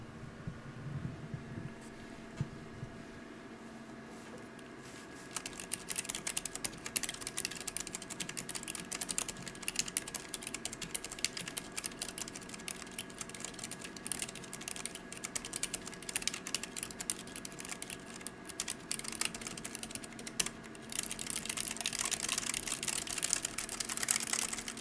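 Typing on a thin, upgraded wireless Keychron keyboard: dense, rapid clacking keystrokes that continue in bursts, close and clear against a faint steady hum, with no talking.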